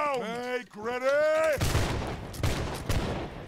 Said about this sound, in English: One right, one left and right, present fire.